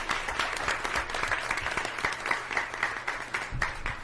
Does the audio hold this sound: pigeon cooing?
no